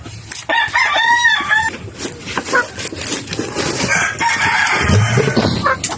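Chickens cluck and a rooster crows close by in a noisy backyard flock, the calls overlapping continuously across the whole stretch with no talking.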